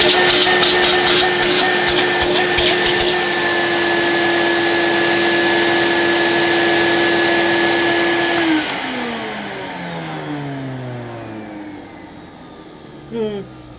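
Hoover S3200 Compact total-system vacuum cleaner running loud and close with a steady high whine, then switched off so the motor winds down with a falling pitch, ending in a couple of faint knocks.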